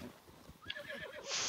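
A horse whinnies in The Legend of Zelda: Breath of the Wild, a short rising neigh over game ambience and faint hoof clatter, ending in a bright burst of game sound.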